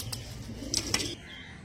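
Pigeons kept at home for sale: a brief, soft coo with a quick flutter of wings, fairly close against quiet background hum.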